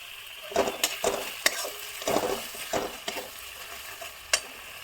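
A sour ingredient goes into a cooked-down spice paste for paneer kofta curry, frying in a pan with a steady sizzle under repeated scraping stirs of a spoon against metal, close and moderately loud, with no voices.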